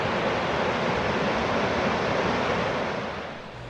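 Thunder Creek rushes beside a hiking trail near Diablo Lake, making a steady, loud, broadband roar of flowing water that fades slightly at the end, with no voices.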